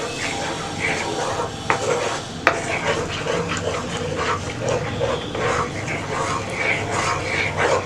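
A spoon stirs chocolate ganache made from Amul cream and chocolate in a pan, producing steady scraping and swishing with a few sharp clinks against the pan, close and moderately loud.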